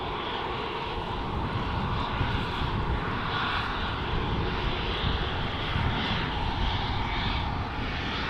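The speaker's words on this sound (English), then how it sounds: "KLM flight 1779 going to Hamburg." A two-year-old KLM Embraer E2 jet departs Amsterdam Schiphol bound for Hamburg, a steady broadband engine roar heard from a distance outdoors, holding at an even level without talk.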